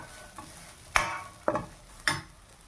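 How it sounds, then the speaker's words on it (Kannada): Grated sweet potato halwa mixture fries in ghee while a spoon scrapes the pan in three or four distinct strokes over a low, steady sizzle, close and without talk. "ಅದಕ್ಕೆ ಸ್ವಲ್ಪ ತುಪ್ಪದಲ್ಲೇ ಸ್ವಲ್ಪ ಫ್ರೈ ಮಾಡ್ಕೋಬೇಕು."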